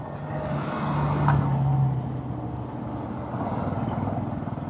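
A single car passes on a road on a solo motorcycle tour, its engine swelling to a near, loud peak before fading, over steady engine and road rumble.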